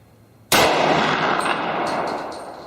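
A single sharp gunshot from a Glock 32 pistol with a 4-inch barrel firing a Hornady 124-grain XTP .357 SIG round, a loud crack that rings out and decays slowly over the following seconds.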